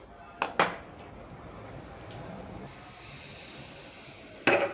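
A metal cooking pot holding sweet potatoes and water is set down on a gas stove, producing two sharp clanks near the start and another metallic clunk at the end over a quiet hiss.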